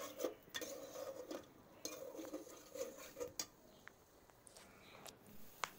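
Spices being stirred and fried in a cooking pot, heard as quiet, irregular clinks and scrapes of a utensil against metal with a faint sizzle underneath.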